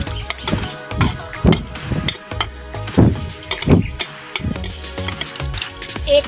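Goat meat cooking in a pot as onion is added, with repeated stirring scrapes and clinks of a spoon against the pot over a steady low sizzle, in rhythmic bursts close by.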